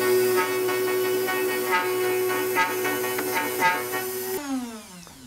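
A router cutting a deeper second pass along the saddle slot of an acoustic guitar bridge, with a steady, fairly loud motor whine and cutting noise throughout that drops in pitch as the tool winds down near the end.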